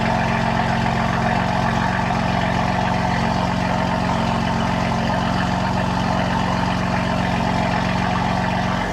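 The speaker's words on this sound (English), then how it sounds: "So right now the exhausts are closed." 2026 BMW M4 Competition xDrive with catless exhaust idles with its valves closed, a steady low burbling hum held evenly for the whole stretch with no talk.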